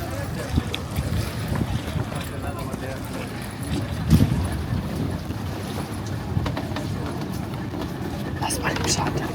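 A small wooden boat moves across the water in Honduras, with steady rushing water and wind buffeting the microphone and occasional knocks from the hull.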